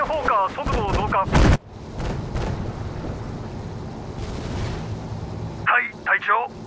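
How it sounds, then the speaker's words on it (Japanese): Naval broadside gunfire from warships in the World War II strategy game Sudden Strike 4: a loud, sharp cannon blast breaks through amid low booming rumbles, while game voices speak over much of it. "側面砲火速度増加。"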